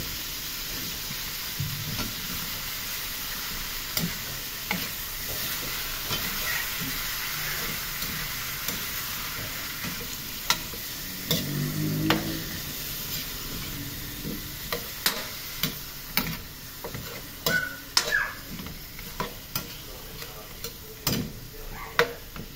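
Chicken gizzard and liver sizzling in a frying pan make a steady hiss under repeated scrapes and clinks of a stirring utensil, which grow busier toward the end.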